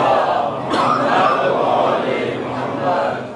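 A congregation at a majlis recites salawat together, a broad swell of many voices in unison filling the room, sustained and fairly loud throughout.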